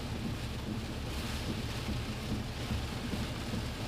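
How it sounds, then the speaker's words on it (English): Hurricane Debby drives rain and wind against a parked truck on St. Simons Island, a dense, constant roar of pelting drops and gusts with no break. "That rain's got to sting a little bit too, with the way that wind's blowing it in here."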